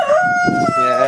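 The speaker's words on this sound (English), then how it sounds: "Chickens everywhere." A rooster crows once, loud and close, a single drawn-out cock-a-doodle-doo on its own.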